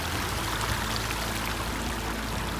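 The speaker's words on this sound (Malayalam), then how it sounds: "ഇപ്പോൾ ഇപ്പുറത്ത് ചെറിയൊരു അരുവി ഉണ്ട് കേട്ടോ" A small stream flows on the Valley of Flowers trek in the Himalayas, fed by a waterfall above, giving a steady, close, broadband rush and trickle of running water throughout, with no voices.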